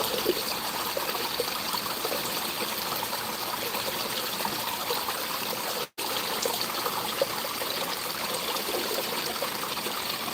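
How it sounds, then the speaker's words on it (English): Steady water trickling and splashing into a newly built garden pond, a continuous close stream of pouring water with a brief dropout midway. "Kind of see it splash now."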